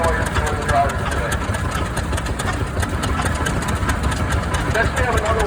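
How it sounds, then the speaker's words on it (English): An antique Allis-Chalmers model 612 tractor, built in West Allis, Wisconsin, chugs steadily at a parade in Edgerton, Wisconsin. The engine runs evenly under an announcer's voice on a loudspeaker. "This is the model 612 Allen Truman tractor built in West Allen, Wisconsin"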